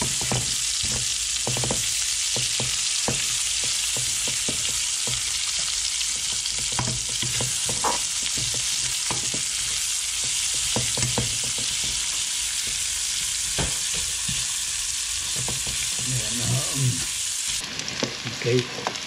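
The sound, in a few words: sautéing garlic and onion in a pan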